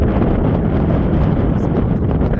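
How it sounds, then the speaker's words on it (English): Wind blows across a hilltop near a railway station in Dodoma, Tanzania, making a continuous low roar and buffeting against the microphone, steady and close for the whole stretch. "you can see how the wind is blowing"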